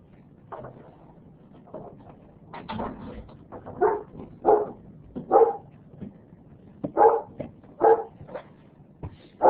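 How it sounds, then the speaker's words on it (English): A worried dog barks in a run of close, loud, evenly spaced yelps and whimpers indoors during a storm, growing more insistent toward the end. "The dog is worried."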